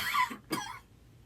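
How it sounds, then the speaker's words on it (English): A single close cough with a short throat-clearing rasp, loud and alone, followed by quiet. "See, I'm even coughing."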